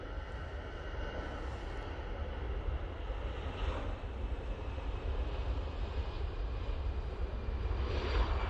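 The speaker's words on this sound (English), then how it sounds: "EasyJet departing there." An EasyJet airliner departs Manchester Airport, its engines a steady, fairly distant broadband roar that holds at an even level throughout, with some wind rumble mixed in and no speech.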